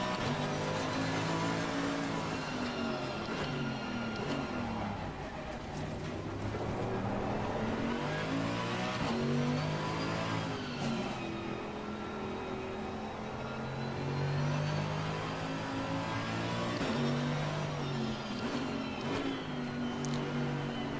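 Race car in the Assetto Corsa Competizione sim at the Nürburgring, its engine revving hard up and down with abrupt gear shifts cutting the pitch, loud and continuous throughout.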